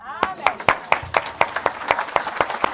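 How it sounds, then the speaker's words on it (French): A church congregation claps in steady rhythm for the preacher, a run of sharp, evenly spaced handclaps close by, with some voices mixed in. "Est-ce qu'on peut l'acclamer ?"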